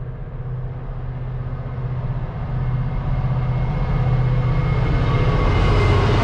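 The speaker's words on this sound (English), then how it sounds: "There goes another train." A passing train rumbles steadily and fairly loud, a broad low roar that swells gradually over several seconds with no voices.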